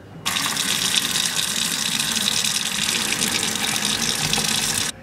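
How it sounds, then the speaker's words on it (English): Cooking water is drained from a pot of boiled orzo pasta, a steady loud gush of pouring water that runs unbroken for several seconds and then stops abruptly. "so now I'll drain it."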